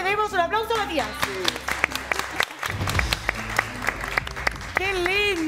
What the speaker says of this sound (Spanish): Quiero que todos le demos un aplauso a Matías.